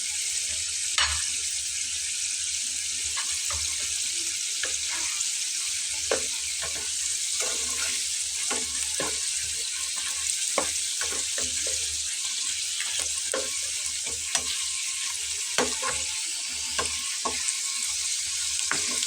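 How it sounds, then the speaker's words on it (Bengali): A breakfast tiffin item fries in a little oil in a pan, giving a steady close sizzle with frequent clicks and scrapes of stirring throughout, no voices. "দেখুন অল্প তেলেই কিন্তু সুন্দর ভাজা হয়ে যাচ্ছে।"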